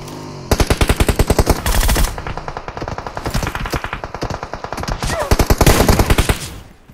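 Rapid automatic AKM rifle fire in a video game, sustained bursts of dense crackling shots running nearly the whole stretch with brief pauses between volleys, loud and close.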